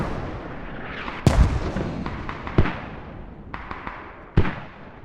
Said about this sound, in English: Mortars landing pretty much on their rally.